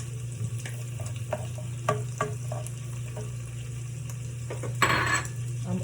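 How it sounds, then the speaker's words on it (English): Sliced onions hit a hot pan and sizzle in a steady frying hiss, with light clinks and scrapes of a utensil stirring and a brief louder burst near the end, without talk. "I'm gonna add my onions"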